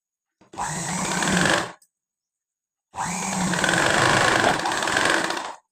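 Two runs of a sewing machine stitching, a close, steady motor whir with a fine rapid needle chatter, lasting about a second and then nearly three seconds, separated by silence.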